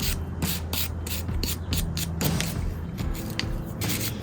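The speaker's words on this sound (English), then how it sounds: "I'm just gonna hit it with a wire brush, try to clean it up a little bit." A wire brush scrubs a Miata idle air control valve on a bench, making fast, rough, rhythmic strokes up close and loud.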